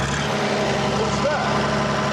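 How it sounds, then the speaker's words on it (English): A British generator unit with a Leyland engine runs at a steady, loud mechanical drone, close by, with people talking over it. "It's a Leyland engine, and it's a British generator unit as well."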